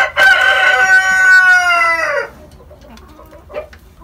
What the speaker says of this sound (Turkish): Şu köy tavuğu çok hırçın arkadaşlar